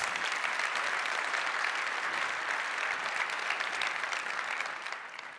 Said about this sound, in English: Let's give a big round of applause to these wonderful folks.